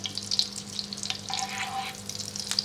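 A tablespoon of butter melts and sizzles in a frying pan for a pepper steak sauce, a soft close hiss with light crackles and a steady low hum beneath.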